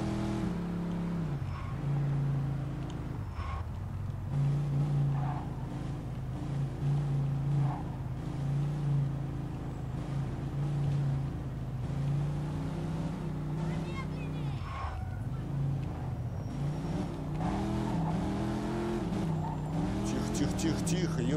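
A car engine in the video game Mafia 2 drones continuously, rising and falling with revs as the vehicle drives, while someone talks over it throughout.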